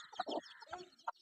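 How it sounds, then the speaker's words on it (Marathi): Hen clucking among her newly hatched chicks, a few soft close clucks in short uneven bursts with quiet pauses between them, no talking. "बघा कोंबडीने एवढी पिल्लं काढलेत"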